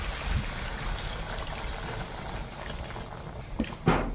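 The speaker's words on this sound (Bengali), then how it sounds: "জল দিয়ে দিলাম" Water is poured into a cooking pot of spiced chicken and cauliflower, a steady rushing pour heard up close, ending with a couple of sharp clinks against the pot.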